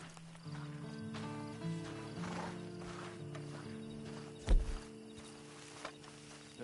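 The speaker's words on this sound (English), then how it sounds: "And you better get on this horse." A horse walks in a video game, with soft clip-clop hooves and a brief neigh over a steady musical and ambient background, moderately faint.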